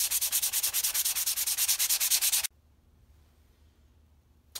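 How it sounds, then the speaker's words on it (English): Fine sandpaper lightly sanding a wooden gnocchi board, a rapid rhythmic scratching of about two dozen quick strokes, close and clear, then stopping abruptly into near silence. "Next step, we just lightly sand it, a little bit of fine sandpaper."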